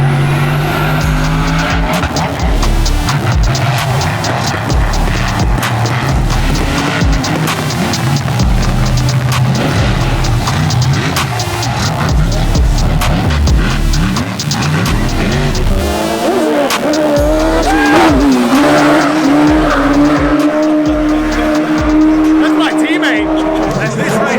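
Race car engine roaring steadily at close range during a 24-hour LeMullets endurance event, with tires squealing and skidding in the second half as the pitch sweeps; voices talk over it.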